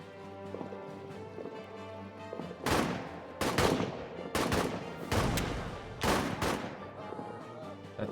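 Rifle gunfire in a hardcore trench warfare video game, All Quiet in the Trenches: several loud, sharp shots cracking out at irregular intervals over a low ambient rumble, close by and alone.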